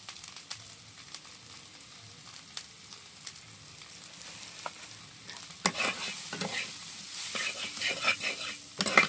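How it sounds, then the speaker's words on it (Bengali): Ground cumin, coriander and black pepper stirred in a frying pan for an egg sandwich, with a soft sizzle and scattered utensil scrapes that grow louder and busier in the second half. "একটুখানি নেড়ে চেড়ে নেব"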